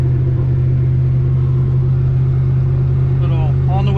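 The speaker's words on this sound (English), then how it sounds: "God damn, them gears are loud." A loud, steady gear whine and engine drone fill the cabin of a 1000 rear-wheel-horsepower drag car as it drives down the road. The tone stays constant, and someone talks over it close by.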